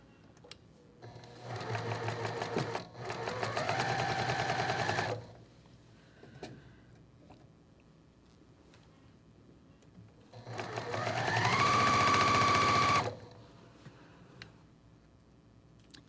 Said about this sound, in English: So now we're going to go sew. I'm going to start with a 1/4 inch foot.